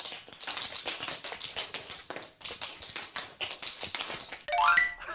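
Tap shoes with metal plates on the soles strike a hard floor in quick, bright, clattering bursts, an irregular close rhythm of metallic clicks, with a short ringing chime near the end.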